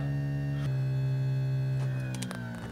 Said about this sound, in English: Hydraulics. We're going to lift the back end up as high as it will go.